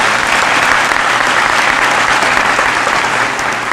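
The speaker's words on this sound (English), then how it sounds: "Can we give them a round of applause for coming out?" Audience round of applause at a school commencement ceremony, dense continuous clapping from a large crowd filling the whole stretch, loud and close with no talk.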